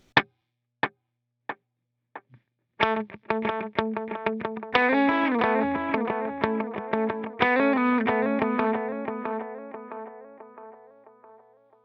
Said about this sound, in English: every worship guitarist has to have their tape delay